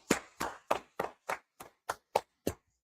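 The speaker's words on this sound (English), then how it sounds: "Clap it up, clap it up." Steady, evenly spaced hand claps, about nine sharp beats in under three seconds, keep a rhythmic pulse with nothing else around them, fairly quiet and close.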